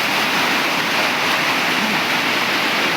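Floodwater after heavy rain rushes through a city street in Kolkata, a loud, steady roar of flowing water that stays constant throughout with no voices.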